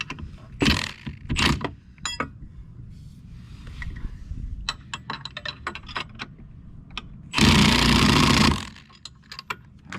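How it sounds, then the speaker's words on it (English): A big wrench checks and tightens bolts on a new tournament rig: scattered metallic clicks and ratcheting taps, then one loud, sustained rasping burst near the end, with no talk. "Now I'll go through with my big wrench and just check everything and do all that."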